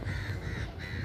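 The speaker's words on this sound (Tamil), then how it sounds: "மேல எல்லாம் பாருங்க பறவைகள் பறந்துக்கிட்டு இருக்குது" Birds call loudly in a butterfly garden on Al Noor Island, Sharjah, with a harsh crow-like caw over dense outdoor background noise.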